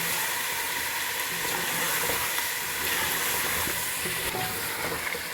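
Ginger garlic paste sizzles steadily in a hot pan while being fried, a continuous bright crackle with soft stirring scrapes, close and without talk.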